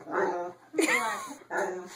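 A dog whines and yips in a drawn-out, talking-like vocalization, three close bursts with a warbling rise in the middle, heard near and fairly loud indoors.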